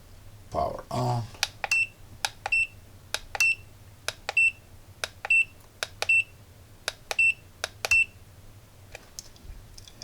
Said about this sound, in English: I can hear that inside there is a relay when I'm choosing different options.